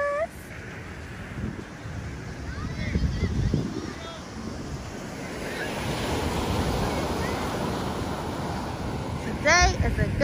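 Ocean waves wash ashore at a beach as gusty wind buffets the microphone, the surf swelling and fading in a continuous roar, with faint voices and baby sounds now and then.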